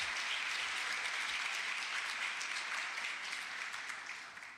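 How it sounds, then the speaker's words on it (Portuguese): A church congregation at a Sunday worship service bursts into steady, dense applause welcoming a woman preacher, a full roomful of hands clapping continuously and evenly, tapering slightly at the end. "Então eu queria que vocês recebessem a Thaís com palmas."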